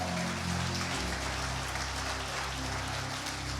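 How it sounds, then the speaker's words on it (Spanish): A church congregation gives a loud, dense, sustained round of applause. It fills the space evenly throughout, with a low hum underneath. "dale un fuerte aplauso al Señor"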